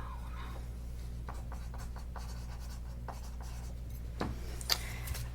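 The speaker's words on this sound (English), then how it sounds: "Just write this down." A pen scratches measurements onto paper during an ASMR role play, with close, quiet strokes and small pauses in a still room, ending with a few light taps.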